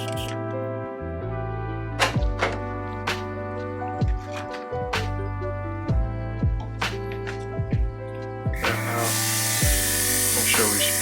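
A cordless airbrush kit hums with a steady buzzing motor and light clicks, then sprays alcohol in a loud, close, breathy hiss near the end.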